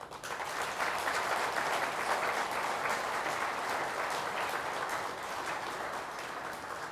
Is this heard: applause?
yes